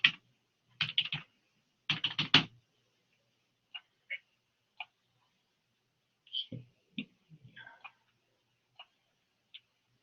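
Bursts of computer keyboard typing during a live programming session: clustered rapid keystroke clicks in two quick runs, then scattered single taps and short flurries, close and clear in an otherwise quiet room.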